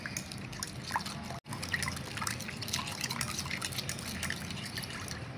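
Milk mixed with a little salt and sugar is stirred steadily, giving a continuous soft liquid swishing and trickling up close, with a brief pause partway through.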